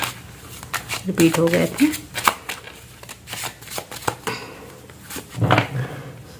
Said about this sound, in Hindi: कार्ड्स को थोड़ा सा हम फिर से मिक्स करते हैं